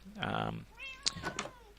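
A cat meows in the Minecraft video game, a short near cry followed by a few softer mews, with a voice speaking over part of it.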